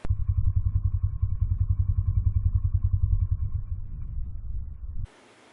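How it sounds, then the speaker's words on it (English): An ATV motor chugs steadily at close range, a low rumbling idle with a rapid even pulse, then cuts off abruptly into near silence after about five seconds. "you're just going to see me pulling up in my ATV and stopping"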